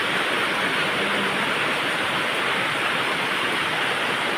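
Flood water rushing in a steady, loud, broadband roar that does not let up, with no voices over it.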